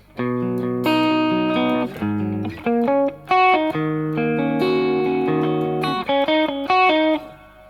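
An electric guitar plays a choppy riff with distortion and effects, sustained notes broken by short stabs and pauses, loud and up front.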